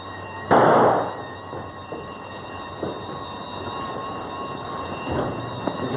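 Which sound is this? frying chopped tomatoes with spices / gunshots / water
gunshots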